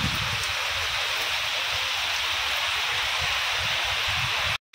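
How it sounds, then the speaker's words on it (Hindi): Heavy rain pours steadily and close, a dense unbroken hiss with no voices, cutting off abruptly just before the end. "मैंने देखु केते जोरे वर्षा पकाउची"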